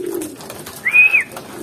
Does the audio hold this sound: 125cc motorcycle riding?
no